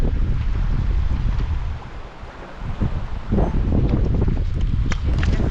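Gusty wind buffets the microphone in a loud rushing roar, easing briefly midway before blowing hard again.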